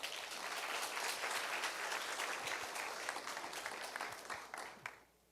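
Sustained applause from an audience at an occupational safety best-practice presentation and awards ceremony, dense and steady clapping that fades out near the end.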